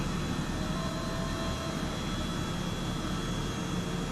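An H135 helicopter in Microsoft Flight Simulator over Sydney gives a dense, constant turbine roar with a broad rushing wash, steady and loud throughout with no voices.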